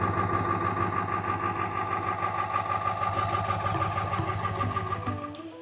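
A diesel car engine idles steadily at close range, a continuous even rumble with a regular pulsing beat, fading slightly at the very end.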